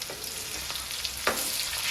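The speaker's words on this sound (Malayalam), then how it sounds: "ഇത് നമുക്കൊരു സൈഡും അങ്ങോട്ടും ഇങ്ങോട്ടും ഒക്കെ മറിച്ചിട്ട് നന്നായി തന്നെ ഒന്ന് ഫ്രൈ ചെയ്തെടുക്കാം." Fish frying in a pan with crushed garlic, giving a steady, fairly faint hiss and crackle of hot oil with a few sharper pops and a stir or turn along the way.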